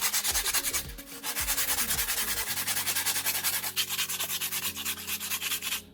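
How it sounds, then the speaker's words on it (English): Sandpaper rubbing back and forth over a cement handle formed around a metal chisel, a steady close scratchy rasp that runs continuously with rhythmic strokes. "Use sandpaper to smooth the surface of the handle."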